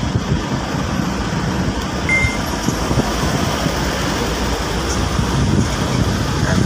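Road traffic near EDSA between Ortigas Center in Pasig and San Juan: a continuous low rumble of passing cars and buses with occasional faint higher tones, heard steadily without talk.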